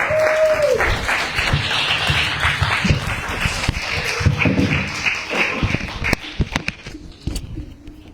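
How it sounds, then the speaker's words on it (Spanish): A church congregation claps to welcome Pastor Emmanuel, a loud, full round of applause that gradually thins into scattered individual claps and taps before dying away near the end. "let's give applause to Pastor Emmanuel."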